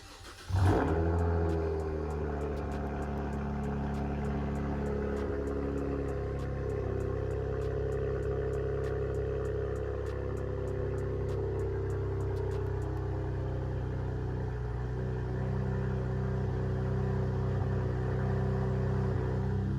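A car with its mufflers removed cold starts with a sharp crank and loud bark, then settles into a steady, rumbling high idle that holds for the rest of the clip.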